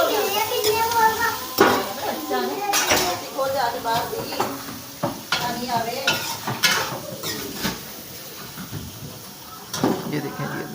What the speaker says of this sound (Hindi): यहाँ बर्तन धो रहे हैं